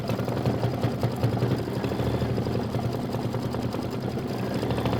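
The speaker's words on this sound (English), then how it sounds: "this is 5 minutes of stitching. It's going to stitch out 2, 4, 6, 8, 10 stars," Embroidery machine stitching out a star quilt block, a fast steady mechanical whir with rapid regular needle pulses and a low motor hum, continuous and close, no voices.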